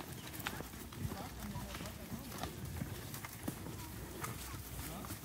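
Cattle hooves on a ranch, a muffled, irregular clopping of many animals moving along at a distance amid rustling background noise, with people faintly talking.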